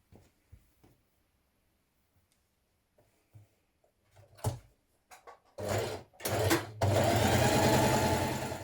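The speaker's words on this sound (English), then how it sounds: "We're going to stay stitch down that part now." A home sewing machine stay stitches the long straight front neckline of a Simplicity 8875 summer dress, running in short bursts and then one steady, close run at the end after quiet handling of fabric.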